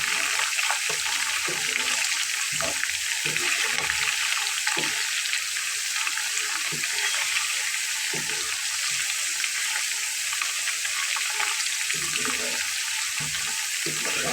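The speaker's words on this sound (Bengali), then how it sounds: "আর চুলাটাকে কিন্তু হাই ফ্লেমে করে দিয়ে ভেজে নিতে হবে।" Potato fritters frying in oil over a high flame, a steady dense hiss and crackle of sizzling throughout, with occasional soft stirring knocks.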